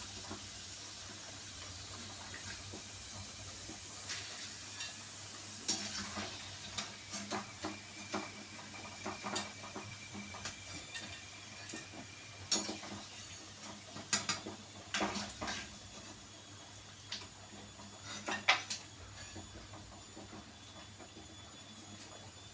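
Hot oil frying with a steady sizzling hiss while a ladle stirs and scoops out the food, scattered soft scrapes and clinks over the continuous bubbling, close and fairly quiet.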